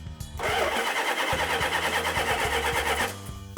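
A 1972 family car engine cranks briefly and then catches, settling into a loud, steady running rumble close by with a regular pulsing beat before it cuts off near the end.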